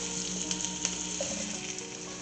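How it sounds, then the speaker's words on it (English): Potatoes frying in rendered bacon fat in a pan, a steady close bright sizzle with small pops and crackles throughout, no talking. "I'm going to cook the potatoes."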